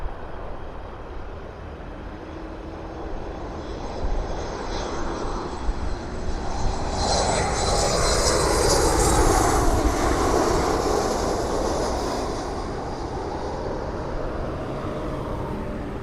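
A WestJet airliner passes at Toronto Pearson airport on a hazy day, its engine roar rising from a distant rumble to a broad, moderately loud swell, then slowly fading.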